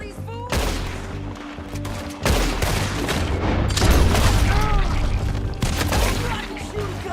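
Gunfire in the Western game Red Dead Redemption 2, with loud, rolling volleys and booming shots that come in several bursts, with voices heard in between.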